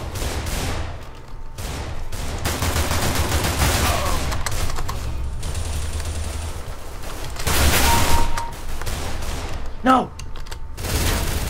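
Rapid bursts of gunfire from a Counter-Strike: Global Offensive Arms Race match crackle on and off throughout, with a shouting player's voice over the shots.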